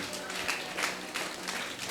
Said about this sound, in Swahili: Tumpe Bwana makofi.